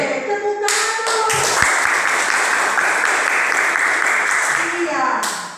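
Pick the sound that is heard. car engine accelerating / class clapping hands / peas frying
class clapping hands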